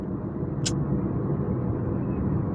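Lorries stand in a traffic jam on the Thoppur ghat mountain road, giving a low, continuous engine rumble with a brief high chirp early on.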